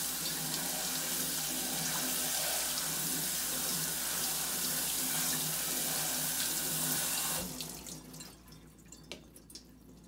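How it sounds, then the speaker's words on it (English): Tap water pours steadily into a sink as sushi rice is rinsed, a loud continuous splashing rush that stops abruptly near the end, leaving a few faint drips. "I'm gonna just run it through the water a little bit."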